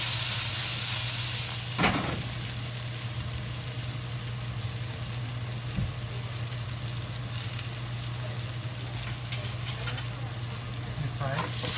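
Green beans frying in a wok for a dry-fried spicy dish, a constant dense sizzle with occasional stirring scrapes and a low steady hum underneath, fairly quiet and without talk.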